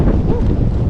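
Strong wind buffeting a microphone outdoors, a steady loud low rumble of gusts filling the whole moment with no pause.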